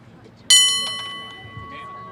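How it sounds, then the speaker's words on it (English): A single sharp strike of a bell at a cable car 150th anniversary ceremony on Clay Street rings out loud and close, its bright metallic tone decaying slowly, with faint crowd murmur underneath. "That's a bell for Fannie Mae"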